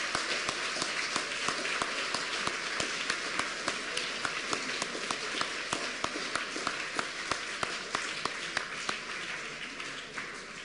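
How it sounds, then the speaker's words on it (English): A quick round of applause from an audience at a talk on England's small society, many hands clapping steadily and fairly loud for about ten seconds, with a few sharper claps standing out and no speech over it. "I wonder if we can have a very quick round of applause."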